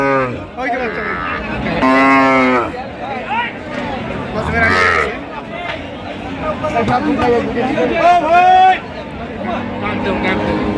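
Cows and calves moo loudly and repeatedly nearby at a livestock market in Mymensingh, deep drawn-out calls rising over a crowd of people chatting in the background.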